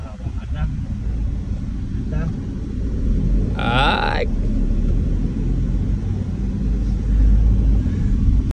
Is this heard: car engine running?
yes